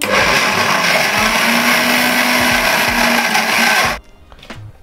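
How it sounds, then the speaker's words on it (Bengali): A kitchen blender grinds peanuts into peanut butter with salt added, a loud steady whirring roar for about four seconds that cuts off abruptly, leaving faint clatter afterward. "লবণ অ্যাড করার পরে এটাকে কিছুক্ষণ আরো গ্রাইন্ড করে নিতে হবে।"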